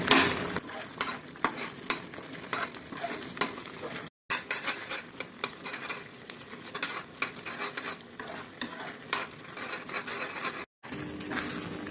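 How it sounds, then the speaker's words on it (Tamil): Jaggery is stirred in a pan over a medium flame, giving a continuous close sticky scraping and soft sizzling patter with irregular strokes and two brief silent breaks. "வெல்லம் இதை மீடியம் ஃப்ளேமில் வச்சு நல்லா உருண்டு வர்றது வரைக்கும் லேசாக அப்பப்போ கலரி கொடுக்கணும்"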